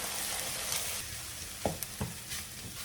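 Egg with sausage fries in a pan, giving a soft continuous sizzle with a few quick scraping stir strokes near the end, quiet and close with no talk.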